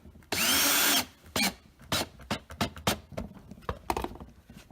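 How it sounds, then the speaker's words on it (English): Power drill driving small bolts into untapped holes to mount LED switchback fog lights on a Nissan 350z, one long loud whine followed by several short bursts of drilling, close up and alone. "Just get really small bolts and drill them in."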